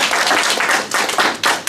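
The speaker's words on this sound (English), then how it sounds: "Please give him a big round of applause." A brief burst of audience clapping and applause, close and loud, with a few individual claps standing out in an uneven rhythm over a couple of seconds.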